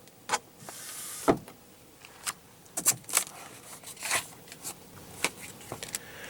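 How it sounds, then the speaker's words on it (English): A power sliding rear window on a 2015 Ram 1500 pickup cab, heard as a series of short motor whirs and clicks with bumps and handling noises, close and fairly quiet, no speech. "then a power sliding window for the rear"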